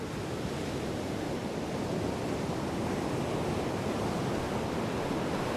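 Steady, broad wind roars continuously through a windy area in the video game Lost Odyssey, fairly loud and unbroken, with no voices over it.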